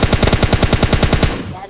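Rapid automatic gunfire from a PUBG match, a loud burst of about a dozen evenly spaced shots lasting under two seconds, close and dominant.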